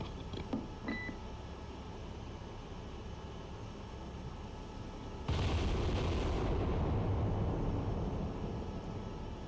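Naval ship guns fire in the Cold Waters submarine-warfare game: after faint beeps, a sudden loud, sustained rumble of gunfire and blasts rolls on for several seconds.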